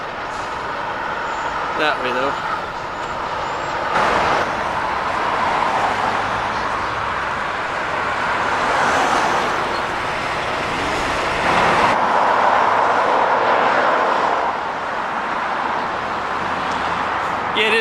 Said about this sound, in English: look at all the truck traffic